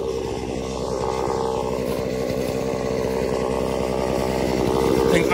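A gas-powered TrimmerPlus pole saw with an edger attachment, used for palm tree pruning, idles high in a steady, loud, continuous engine drone that rises slightly toward the end.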